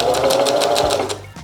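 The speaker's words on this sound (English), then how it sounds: "I just got my sewing machine tuned up" A freshly tuned-up sewing machine stitching the corners of upholstery fabric for a bench, a loud close rapid rhythmic chatter of the needle running steadily for about a second and a half before slowing.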